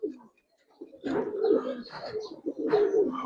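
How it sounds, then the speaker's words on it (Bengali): A pair of Bezi pigeons coos close by in low, throaty rolling phrases, a short burst followed by a pause, then two longer bouts of cooing. "একজোড়া বেজি কবুতর দেখেন ভাই"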